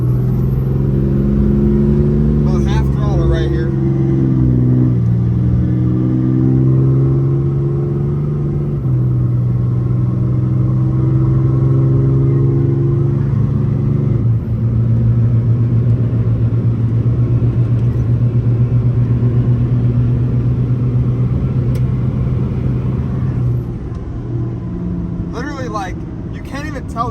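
A Cummins diesel truck with a replacement transmission accelerates at half throttle, a loud steady engine drone rising in pitch through gear changes, with someone talking over it.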